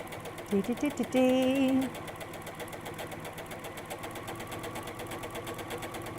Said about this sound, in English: I'm meant to be sewing a straight line